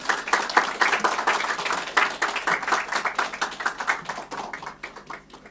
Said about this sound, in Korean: 우리 차기령 대표님 나오실 때 우리 세계 공동체의 뜨거운 박수로 환영하도록 하겠습니다.